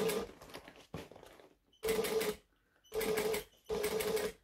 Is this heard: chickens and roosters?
no